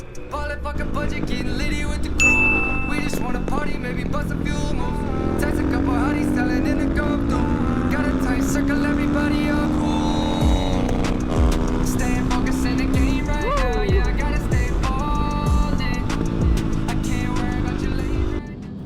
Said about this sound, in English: This bike will just lug down the highway at 75-80 miles an hour all day without hesitation.